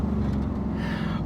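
A ute engine, on an exotic car rebuilt after a wreck, revs up on a downshift. The steady low engine drone rises into a brighter roar near the end, close and alone with no talking.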